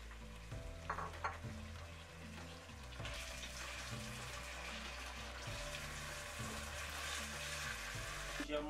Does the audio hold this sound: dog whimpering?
no